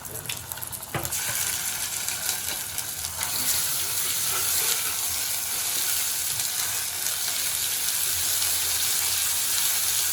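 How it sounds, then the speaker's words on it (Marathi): Ginger garlic paste fries in hot oil for misal, a dense, loud, continuous sizzle heard close up, with a brief clatter near the start. "मसाला टाकल्यानंतर तेलावर मस्त परतलं आलं लसूणची पेस्ट"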